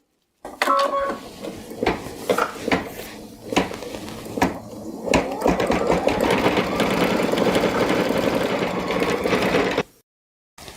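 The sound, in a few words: embroidery sewing machine stitching applique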